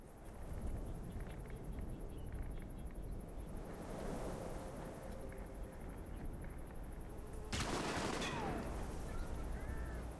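Gunfire in the PC game Alpha Protocol, distant shots over a steady windy ambience, ending in one sharp, loud crack.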